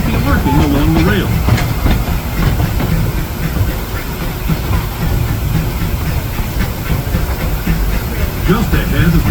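The Disneyland Railroad train running behind the steam locomotive E.P. Ripley No. 2 gives a steady loud rumble with hiss and rhythmic clatter from the cars, while an announcement voice speaks over it.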